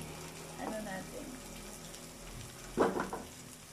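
Pansit guisado being stirred as it fries in a pan, a soft sizzle under low background hum with a couple of brief scraping, clattering stirs, one near the start and a louder one toward the end.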